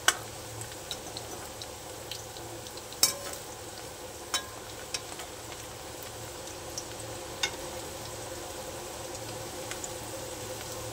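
Onion sizzling in a generous amount of oil for stuffed masala vangi, a steady soft frying hiss broken by occasional sharp ticks and clicks of stirring.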